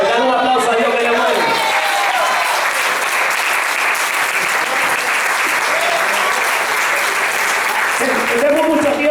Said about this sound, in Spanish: Dale un aplauso a Dios que le mueve.